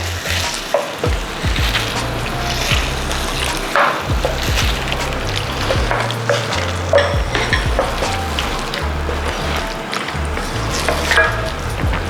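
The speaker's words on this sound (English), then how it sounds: "Give it a good stir." Sweet and sour sauce with mushrooms sizzles loudly in a pan while being stirred, a steady close frying hiss broken by repeated scraping and stirring sounds.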